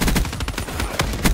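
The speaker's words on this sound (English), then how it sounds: "a light machine gun, which I'm using right now" Rapid bursts of light machine gun fire in the shooter video game Black Ops 3, loud and close, with sharp repeated cracks in quick rhythm and a heavier shot near the end.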